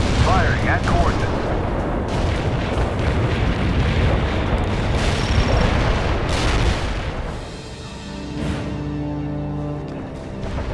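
Artillery fire from World in Conflict pounds a target area, with a steady run of loud booms and crackling blasts that later thin out into a lower rumble.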